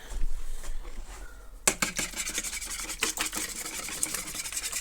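A small whisk scrapes and rasps through thick egg replacer in a bowl, near and loud, in quick irregular strokes that start abruptly after a quieter stretch.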